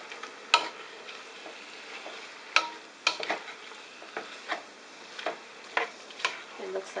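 Ground beef, pork and lamb browning in a pan, a soft steady sizzle broken by irregular sharp scrapes and clicks of a utensil stirring, close and fairly quiet.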